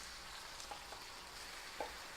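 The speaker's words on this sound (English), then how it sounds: "And here's the sizzle as it hits." Steady, quiet sizzling and crackling of red wine sauce poured into a hot pan for Japanese hamburger steak, with a couple of small pops and stirring clinks.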